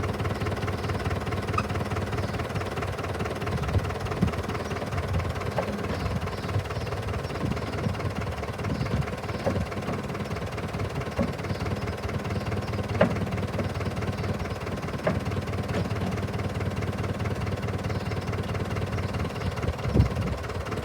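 Old tractor winch, unused for about 25 years, winding cable onto its spool: a steady mid-pitched engine drone with mechanical rattle and occasional knocks running continuously throughout.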